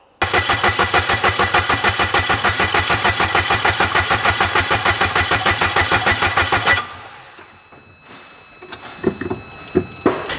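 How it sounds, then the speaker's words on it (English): A car engine is cranked by the starter with some connectors disconnected so it cannot run. It gives a loud, steady rhythmic churning for about seven seconds that never catches, then stops, followed by a few faint clicks and knocks. "When I cranked the car and I made sure it won't run by disconnecting some connectors"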